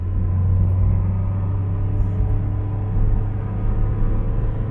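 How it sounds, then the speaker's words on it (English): A Smart ForTwo's small engine drones steadily close up from inside the car, a low continuous rumble with a brief soft turbo dump-valve whoosh as the gear changes. "when you change the gear, it makes a nice little sort of dump valve noise"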